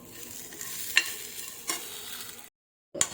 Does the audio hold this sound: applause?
no